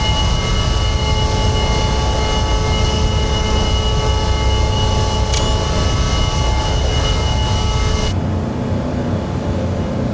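Steady loud roar of an ERJ175 regional jet climbing out of Washington Reagan National after gear retraction in a flight simulator, constant engine drone with whining tones, then a sudden drop as the upper hiss cuts off near the end.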